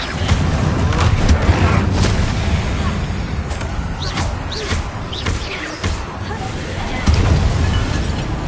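Repeated blasts of the Confringo explosive spell in the Hogwarts Legacy game, a series of loud booming bursts with sharp cracks, mixed with game sound and muffled talk throughout.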